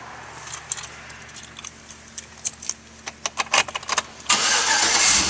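A 2009 Chevrolet Avalanche LTZ crew cab starts up: a run of quiet clicks and key jingles, then the starter cranks and the engine catches with a sudden steady roar.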